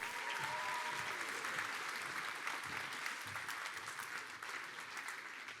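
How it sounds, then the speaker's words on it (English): Audience applause for an award winner at a cup finals night ceremony: a dense, steady wash of many hands clapping that stays loud and even for the whole stretch, with no break. "Round of applause again, please, for Heimdall."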